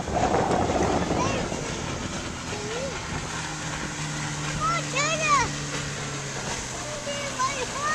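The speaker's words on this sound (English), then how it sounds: "Somebody in a boat's coming." A motorboat approaching across the water near a dock, its steady engine drone coming in from a distance under wind noise, with birds calling and people talking nearby.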